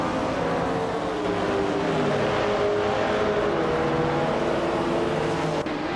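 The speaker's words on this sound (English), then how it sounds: "1970 Ferrari 512S, a classic racing machine known for its speed and style" A 1970 Ferrari 512S racing car engine in a racing video game drones loudly and steadily for six seconds, its pitch shifting slightly as it holds speed, with no talking over it.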